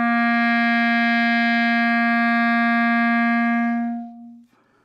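A single sustained clarinet note, C, held steady for about four seconds, rich in harmonics, then fading out with a faint breath at the end.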